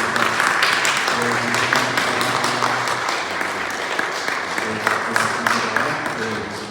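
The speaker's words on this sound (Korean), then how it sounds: "우리 두 분에게 크게 격려의 박수 한번 주시기를 부탁드립니다" A church congregation in Montreal applauds two missionaries, a sustained, loud, dense patter of many hands clapping that continues evenly throughout, with a faint voice underneath.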